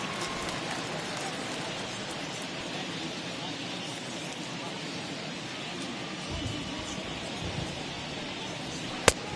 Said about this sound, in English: That's as hard as I've seen it rain all afternoon.